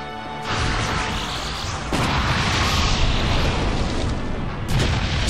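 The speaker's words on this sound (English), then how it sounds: "Self-destruct detonates." A Self-destruct move in a Pokémon Battle Revolution battle detonates as a loud, booming video-game explosion, with a sharp burst at the start and another crackling impact near the end over a sustained rumbling roar.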